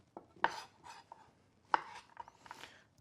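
A knife chops garlic on a cutting board with sharp, close strikes. Two louder knocks stand out among a few lighter cuts and scraping rubs, with no talk.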